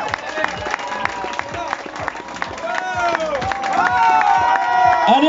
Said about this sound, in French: Vous allez pouvoir lui rendre l'hommage qu'il mérite avec une ovation, mesdames et messieurs, applaudissements pour William Bonnet.